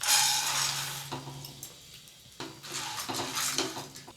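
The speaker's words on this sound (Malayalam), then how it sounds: "4-5 മിനിറ്റ് ഇങ്ങനെ ലോ ഫ്ലെയിമിൽ ഒന്ന് ചൂടാക്കി എടുക്കുക." Roasted gram, garlic and chilli being dry-roasted in a pan on a low flame for chutney powder, with a metal spoon scraping and clinking against the pan in bursts of stirring, fairly close, no voices.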